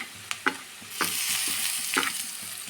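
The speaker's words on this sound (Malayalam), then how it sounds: "അപ്പോൾ നമ്മൾ വെച്ച സവാളയൊക്കെ നന്നായിട്ട് ഫ്രൈ ആയി തുടങ്ങി" Chopped onions fry steadily in a pan for a brinjal curry, giving a bright, continuous sizzle broken by a few sharp scrapes and knocks of a stirring spoon. It is close and moderately loud, with no voices.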